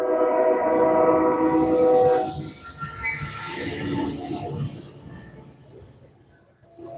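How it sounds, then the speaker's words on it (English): Trains on a foggy night: loud sustained horn tones for about two seconds, then a rumbling, hissing rail roar that gradually fades into the distance. "Man, the trains sound weird on a foggy night."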